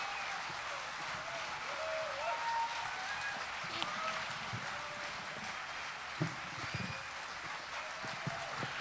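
Applause from a folk festival audience after a trio's set at Warwick Folk Festival, a soft, distant, continuous patter of many hands spread evenly throughout with no single claps standing out.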